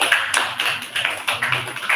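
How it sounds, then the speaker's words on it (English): Applause from an audience at a college class session for a BBA Health Care Management course, with rapid, uneven clapping filling the short stretch at moderate loudness and no talk over it. "Big round of applause for sir."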